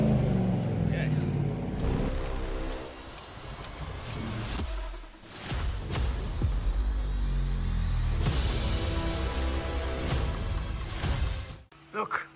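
Modified 2026 Ducati Hypermotard V2 SP engine revving on a dyno, a loud, close, continuous engine roar that rises and falls through the run, then cuts off sharply near the end.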